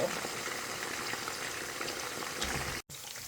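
Pork sizzles steadily in hot oil, a dense crackling hiss that holds constant before a brief drop-out near the end.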